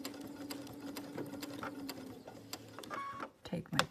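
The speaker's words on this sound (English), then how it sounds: "I'm going to drop my presser foot, and I'm going to sew back tacking." A home sewing machine with a quarter-inch presser foot stitches fabric in quick rhythmic bursts with a short reverse back-tack, clicking and whirring close up while someone talks softly over it.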